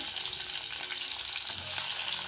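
Steady, loud crackling sizzle of spices tempering in hot oil, continuous and close throughout, just before green chillies go into the pan.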